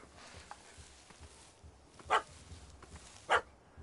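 Two short, sharp puppy barks from a video game, spaced about a second apart over a low, quiet game ambience with no talking.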